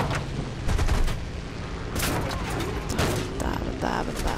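War Thunder combat gunfire, rapid clusters of cracking shots and mechanical clatter with occasional booms, over engine rumble and someone speaking Norwegian.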